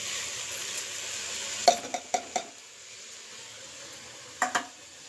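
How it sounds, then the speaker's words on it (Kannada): Washed rice poured into hot oil in a pot and stirred, giving a steady soft sizzle broken by a few close, sharp metallic clinks of the spoon against the pot, with no talk. "ತೊಳೆದಿಟ್ಕೊಂಡಿರೋ ಅಕ್ಕಿ ಹಾಕ್ತಾಯಿದ್ದೀನಿ ನೋಡಿ"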